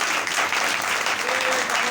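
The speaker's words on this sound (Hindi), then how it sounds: "जोरदार तालियां बजाएं" A church congregation claps loudly during a Hindi-language sermon, a thick, even burst of applause filling the whole moment without pause.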